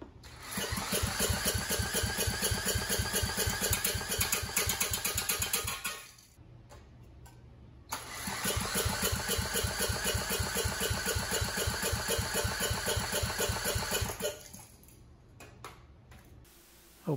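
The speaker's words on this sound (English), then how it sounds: "We're going to go ahead and spin it over to see what the compression comes up to." A generator engine cranks over without starting during a compression test after a head gasket change, giving two long bursts of rapid, even rhythmic chugging with a short pause between, close up and with no talk.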